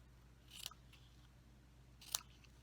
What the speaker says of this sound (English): and trim off your ends.